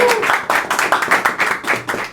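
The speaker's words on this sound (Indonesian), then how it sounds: "Tepuk tangan." Audience clapping at a live Indonesian comedy talk show, a burst of hand claps with voices and talk mixed in, fairly loud and close throughout.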